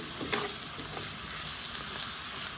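A Réunion fish curry sizzles in a cooking pot while being stirred, making a close, dense hiss and crackle with faint scraping through it, and no voices.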